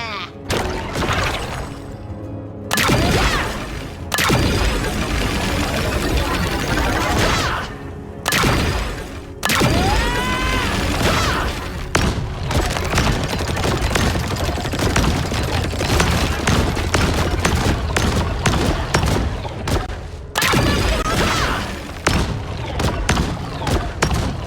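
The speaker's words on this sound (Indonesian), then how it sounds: "Selama kamu mau melindungi seseorang, kamu pun bisa pakai meriam batu ini." Stone cannon skill effects from a video game, a dense run of loud blasts, crashes and shattering impacts in rapid bursts separated by brief pauses.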